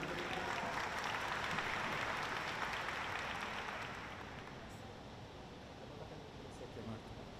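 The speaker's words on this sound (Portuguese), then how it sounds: "uma salva de palmas para a irmã Irenita" A solemn session audience gives a round of applause for a nun being honoured, a dense wash of clapping that is strongest at first and then gradually thins and softens.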